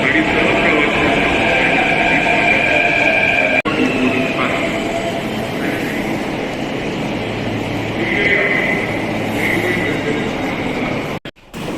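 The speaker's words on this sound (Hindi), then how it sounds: "शायद हमारे ट्रेन आवे वाला है" A metro train pulls into a station in India, with a broad low rumble and rolling rail noise that rise and shift over several seconds while a recorded platform announcement plays.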